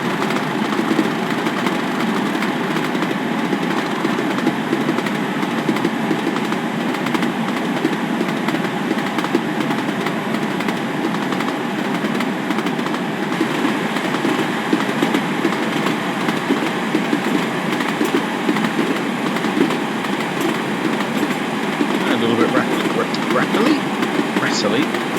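Two Class 37 diesel locomotives drone steadily and loudly throughout, a dense, rattly mechanical roar with no clear pauses.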